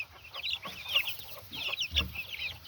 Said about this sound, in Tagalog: So as you can see, this is a mixture of Rhode Island Red,